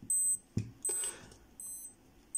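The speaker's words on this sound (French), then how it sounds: "Par une séquence de bips sonores, vous allez être en capacité de connaître l'heure" A Breitling Aerospace watch's minute repeater gives a series of short, high electronic beeps in quick groups with brief pauses between them, thin and close, over quiet background hiss.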